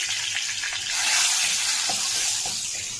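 About 500 grams of mutton with onions cooking in a small amount of oil, a loud, continuous close sizzle with faint stirring touches and no voices.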